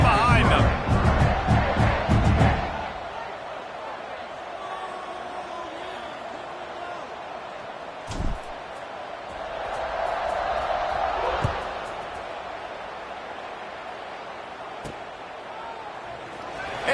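Football stadium crowd waiting for kickoff, a loud roar and cheer for the first few seconds, then a steady distant murmur with occasional thuds and a commentator-style voice over the background.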